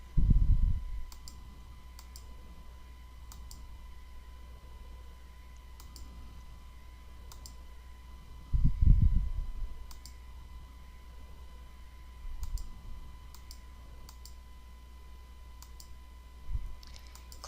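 Sparse single computer mouse clicks tick at irregular intervals over a faint steady hum, soft and close, with a few low thumps between them.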